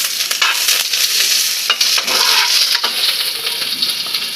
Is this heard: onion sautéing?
yes